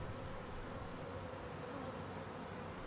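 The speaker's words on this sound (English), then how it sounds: "Some of the bees already inside the hive position themselves at the entrance and fan their wings" Steady, dense buzzing of a mass of honeybees fanning their wings at the entrance of a Warré hive, a continuous close drone with no pauses.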